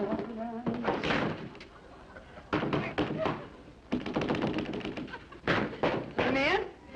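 Knocking on a door comes as several loud, sharp thumps in quick bursts, mixed with talk and other voices in a room.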